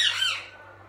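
A peacock calls once, close and loud, a single harsh, piercing squawk that fades quickly.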